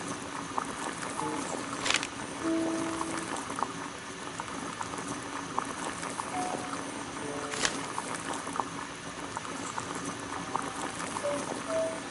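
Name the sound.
water boiling in a kettle on a gas burner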